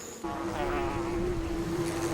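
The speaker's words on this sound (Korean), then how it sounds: "땅속과 밖을 바쁘게 오가는 일벌들" Asian giant hornet workers busily fly in and out of an underground nest while digging out soil, making a steady, close, continuous buzz that holds one droning pitch throughout.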